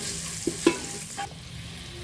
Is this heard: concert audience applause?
no